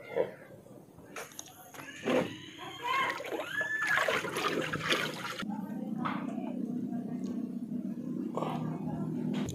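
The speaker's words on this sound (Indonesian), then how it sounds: "kita akan siram dengan air yang sudah dicampur dengan larutan organik" Water mixed with organic solution splashes and pours steadily onto planting medium for porang plants, a continuous sloshing wash with a few sharper splatters, heard close up.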